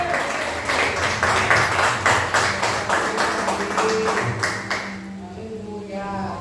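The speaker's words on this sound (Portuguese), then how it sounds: "Uma salva de palmas para Jesus." A church congregation claps in steady unison during a sermon, rhythmic loud claps at a brisk even pace for several seconds before fading out as voices and music continue underneath.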